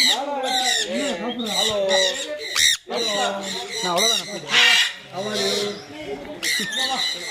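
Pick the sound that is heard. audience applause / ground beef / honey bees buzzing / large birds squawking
large birds squawking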